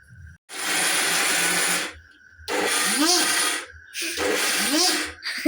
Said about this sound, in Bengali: এই যে ডাল, আজকে ডাল বাটবো, পেঁয়াজি করবো এই জন্য। তো নতুন ব্লেন্ডার,